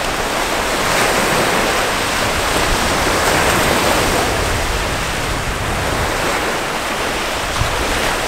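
Ocean waves wash steadily onto an empty beach, a broad, continuous surf roar that stays loud and even throughout with no voices.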